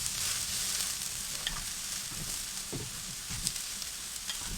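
Half a red onion sizzles and crackles steadily on a hot Aldi kamado grill, with occasional soft scraping and pops in the fry, no voices over it.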